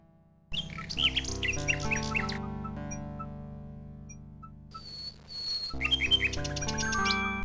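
A little bird in King's Quest 6 squawks in rapid chirpy bursts over a sustained synthesized game music backdrop, pausing midway and then squawking again, fairly clear with no voices.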